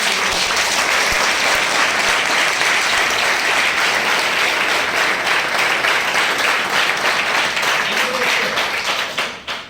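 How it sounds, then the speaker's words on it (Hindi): An audience at a class applauds loudly and steadily for nearly ten seconds, a dense wash of clapping that thins out only at the very end. "एक बार जोरदार तालियां होनी चाहिए आप।"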